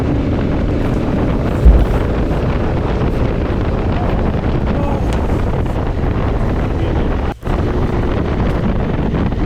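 A motorcycle rides slowly on an adventure ride. Loud, steady buffeting wind across the microphone covers nearly everything, with a low engine rumble underneath and a brief dropout late in the clip.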